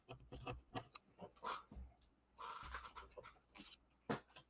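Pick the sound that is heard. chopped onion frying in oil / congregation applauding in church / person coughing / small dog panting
small dog panting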